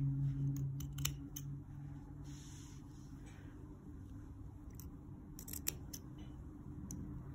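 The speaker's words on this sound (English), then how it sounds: "Cutting right up to that top stitch line, but not over it." Scissors snip through scarf fabric in several short, quick bursts, fairly close and crisp, with a low steady hum underneath and no talking.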